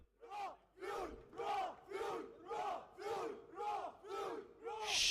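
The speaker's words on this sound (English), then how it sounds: "The cheering squad really is just boundless. So full of energy, so pumped up." An esports watch party crowd for a Valorant Challengers South Asia match, Orangutan versus Reckoning Esports, chants and cheers in a steady rhythm of about eight loud, evenly spaced bursts, close and full.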